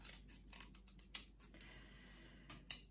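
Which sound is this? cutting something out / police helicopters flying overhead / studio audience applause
cutting something out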